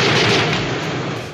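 A loud, sustained burst of gunfire and blast noise from a scene in Hitchcock's film North by Northwest, dense and booming with no voices over it.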